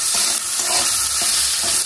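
Chopped tomatoes with salt and turmeric fry in oil with bay leaf and five-spice seeds in a wok, giving a loud, steady sizzle with a few stirring scrapes.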